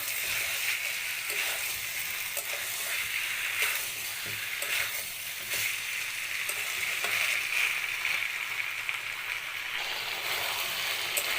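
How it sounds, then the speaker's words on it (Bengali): Onions frying in oil in a pan for chicken curry, with a steady broad sizzle and occasional soft stirring scrapes, close and continuous with no talk. "পেঁয়াজগুলো দেওয়ার তিন চার মিনিটের মতো হয়ে গেছে মাঝে মাঝে এভাবে নেড়ে চেড়ে ওপর মিক্স করে নিচ্ছি"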